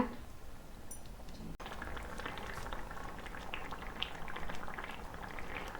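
Goat intestine curry simmering and reducing in a village-style pot, a steady close bubbling and sputtering with small pops that carries on without pause.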